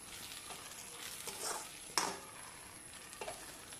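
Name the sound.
stirring cabbage masala in a pan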